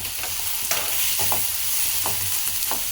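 Onion and green chilli frying in hot oil in a pan, a steady close sizzle broken by several short scraping stirs of a spoon, with no talking.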